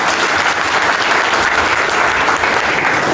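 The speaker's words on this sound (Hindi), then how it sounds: "धन्यवाद कीजिए तालियों के साथ, जोरदार तालियों के साथ" Loud, sustained applause from a crowd at a political party workers' rally in Khatima, a continuous even roar of many hands clapping with no pauses.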